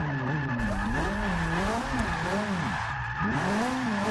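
A slammed Ferrari 458 Italia drift build in Forza 6 wails and revs with a wavering engine pitch as it slides and spins out, tires squealing, all at steady loudness.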